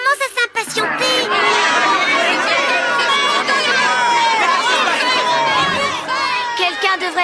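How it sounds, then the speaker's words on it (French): Crowd of children and people chattering and shouting restlessly, a dense continuous babble of overlapping voices close by throughout, with excited calls rising above it. "Et qu'est-ce qu'on fait de la foule? Ils commencent à s'impatienter."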